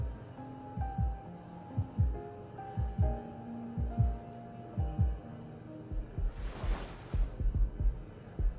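Heartbeats pulse from a heartbeat-detecting device in the video game Love and Deepspace, a steady, soft double thump repeating about once a second over faint musical tones, with a brief whooshing swell near the end.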